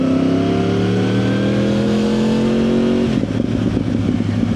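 A Yamaha R1 motorcycle filtering through London traffic holds a steady engine drone, then drops off the throttle and breaks into a burst of popping exhaust crackle, loud and close.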